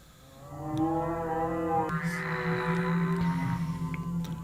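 A person gives a long, drawn-out imitation of a cow's moo, a low droning call that rises and wavers for a few seconds.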